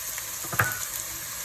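Onions fry in a pan during cooking of spiced rice with chicken and vegetables, making a steady hiss with a single sharp clink of a utensil against the pan partway through.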